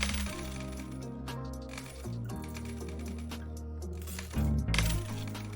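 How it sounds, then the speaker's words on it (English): Coins clatter and clink steadily as the Coin Pusher Casino video game auto-collects them, the metallic jingle layered over looping game music that swells near the end. "that noise there is where we ran out of coins up here, and then it's auto collecting them"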